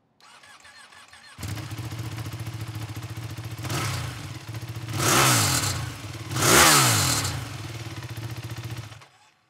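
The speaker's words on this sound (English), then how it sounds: "we have a 2018 Panigale 1299 Final Edition. This is the sound check." A 2018 Ducati Panigale 1299 Final Edition superbike cranks and fires up, settling into a rumbling idle before two sharp, loud throttle blips that rise and fall, then cuts off.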